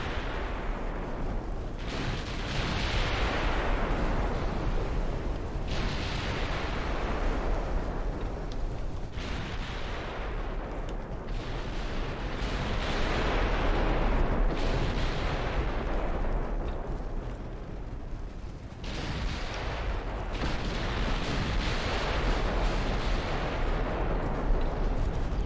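In the naval video game Ultimate Admiral Dreadnoughts, during a British 1900 campaign, a torpedo detonation and naval gunfire produce heavy booms every few seconds over a continuous rumbling roar.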